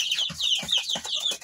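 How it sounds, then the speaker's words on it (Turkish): About four-week-old chicks in a portable backyard coop make rapid, high peeping chirps in quick repeated bursts, close and clear with no talking. "Yaklaşık 4 haftalık olan civcivlerimiz"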